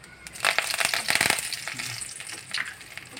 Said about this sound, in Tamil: கடுகு போட்டுடலாம், கடலைப்பருப்பு போட்டுடலாம், உளுத்தம்பருப்பு கொஞ்சம் பொரியட்டும்.